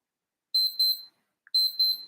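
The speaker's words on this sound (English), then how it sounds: "we're gonna see if the alarm works." A digital sports watch alarm sounds in two crisp bursts of rapid high-pitched beeping, each a quick cluster of tones, separated by a short silence.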